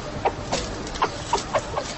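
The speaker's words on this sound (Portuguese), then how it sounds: "Estas galinhas são galinhas sedosas do Japão." Japanese silkie chickens in a henhouse make short, soft clucks that come in irregular bursts of several calls over a low background hum, close by and moderately loud.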